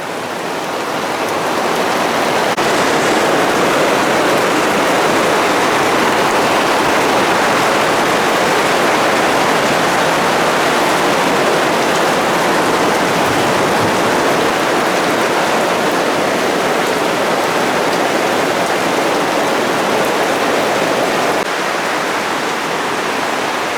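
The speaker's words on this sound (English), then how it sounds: "it is absolutely monsooning out there" Heavy monsoon-like rain pours outside a garage as a dense, unbroken roar of water, loud and steady throughout with no voices.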